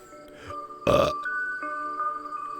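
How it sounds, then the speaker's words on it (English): A person burps once, loudly and close, at mid-clip, with a quieter lead-in sound just before it and a steady background tone throughout. "Why am I so burpy today?"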